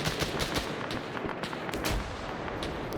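Dense WW2 gunfire from troops opening up during a smoke charge. Sharp shots and rapid bursts overlap in a continuous volley, loud and close, with no pauses.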